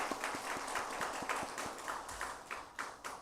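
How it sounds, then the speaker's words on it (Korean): A church congregation claps briefly in a celebratory round, with soft, slightly uneven claps repeating at a moderate pace and heard at a distance. "우리 축하하는 마음으로 한번 박수 한번 드릴까요?"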